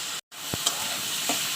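Tomato and onion frying together with green chilli in a pan, a close, even sizzle broken by a brief gap and a couple of soft stirring knocks.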